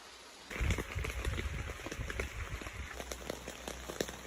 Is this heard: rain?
yes